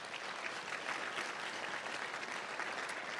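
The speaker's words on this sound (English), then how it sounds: "everyone can give a round of applause also to Larry James" Steady applause from a Hall of Fame induction audience fills the room, dense and even throughout, moderately distant with no voices standing out.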